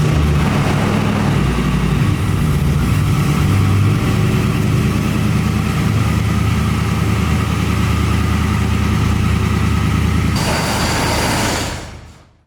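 A truck engine runs steadily at a loud, close idle with a deep rumble, then cuts off abruptly near the end, leaving a brief fading tail.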